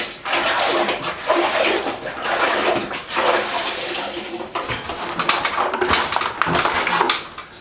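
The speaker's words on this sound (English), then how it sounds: "I'm gonna go back, rinse out the sponge" A grout sponge is rinsed and squeezed in a bucket of water, making loud sloshing splashes and dripping in uneven bursts that swell and fade over several seconds, up close and with no voices.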